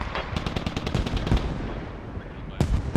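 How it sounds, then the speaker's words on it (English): Mortar rounds strike an Australian tank in a tactical shooter match, a rapid run of close, sharp explosive cracks and rumbling blasts that fade out, then two more loud impacts near the end, with no talking. "they have mortar fire coming down on the Australian tank"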